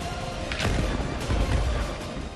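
During ground fighting in Gaza, artillery and gunfire from the Israeli army come through as a couple of sharp cracks and booming thuds over a rough, noisy rumble, moderately loud.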